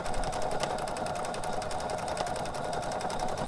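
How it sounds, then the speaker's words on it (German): A sewing machine stitches along a chalk line through felt while an iPad sleeve is sewn, a steady, rapid mechanical whir and clatter running close and continuous with no pauses. "Jetzt nähe ich einmal entlang der Markierung"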